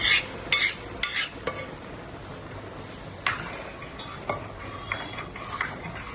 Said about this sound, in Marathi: हे मिश्रण चांगलं परतून गेल्यावर त्याच्यामध्ये आपण उकडलेला बटाणा घालतो